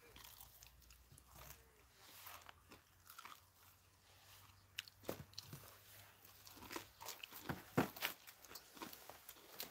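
Crispy country-style fried chicken being bitten and chewed, with irregular crunchy bites that grow louder and more frequent, and a voice talking faintly underneath.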